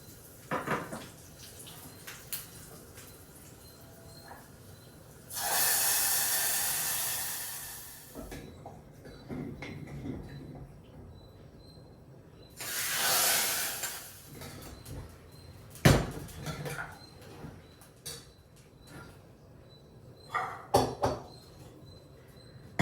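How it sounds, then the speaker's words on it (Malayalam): Mustard seeds spluttering in hot oil while tempering sambar in a home kitchen, with asafoetida added: two loud, close hissing, crackling bursts a few seconds apart, separated by the clatter of utensils and small clicks. "ഞാൻ കടുക് കാച്ചിട്ട് താളിക്കാൻ പോവാണ് കേട്ടോ."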